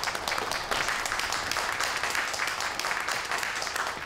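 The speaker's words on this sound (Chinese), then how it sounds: "不要鼓掌，不要鼓掌了。" A room of people at a hastily called review meeting with customs officials bursts into steady, dense clapping that holds for several seconds without a break.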